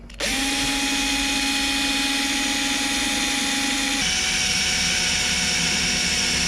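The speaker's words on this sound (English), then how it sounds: "I'm going to drill down each one, put a bigger drill bit in to get to the right size" A power drill whines steadily at close range, drilling into a Mazda MX-5 car body, a continuous high-pitched motor tone that shifts pitch partway through, with no talking.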